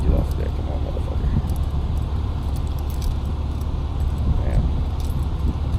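Keys jangle as a couple of them are handed back to a tow truck driver while loading Collins dollies, a steady metallic clinking under a voice and the low rumble of an idling vehicle nearby.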